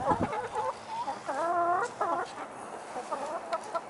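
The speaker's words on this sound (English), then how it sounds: "chickens are loving the watermelon pieces" Chickens clucking and squawking while eating watermelon pieces in a close, busy series of calls with short pauses, with no talking.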